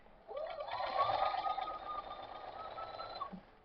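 A sewing machine set to stitch length 2 runs a steady whirring hum for about three seconds while stitching quilt fabric pieces for a king size border, starting and stopping cleanly, close and moderately loud.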